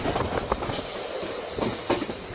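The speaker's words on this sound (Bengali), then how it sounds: "আমাদের ট্রেন প্রায় 1 ঘন্টা লেটে ঢুকছে বর্ধমান।" A passenger train running late into Bardhaman station gives a steady, close rumble with rhythmic clickety-clack of wheels over rail joints and faint brake squeal, heard from on board with no voices.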